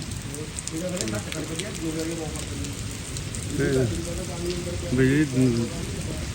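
Steady hiss of rain drumming on a tin roof, with water running from drainpipes, continuous and fairly loud throughout, while voices talk over it.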